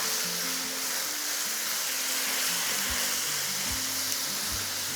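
Coarsely chopped garlic, greens and very hot pepper fry in oil in a pan for homemade kuksi, a loud continuous sizzle with a few soft scrapes and knocks of stirring underneath.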